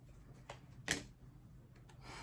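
Tarot cards are shuffled by hand in a few soft, brief riffling bursts, close and quiet, with low background hum between them.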